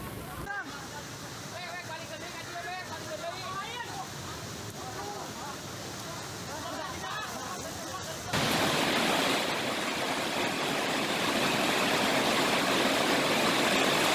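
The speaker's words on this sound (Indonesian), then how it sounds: "Banjir bandang terjadi akibat hujan deras dan menyebabkan aliran sungai Cibuntu meluap." Rushing floodwater from the overflowing Cibuntu river during a flash flood after heavy rain, a steady roaring wash that swells louder and broader partway through, with voices audible over the first half.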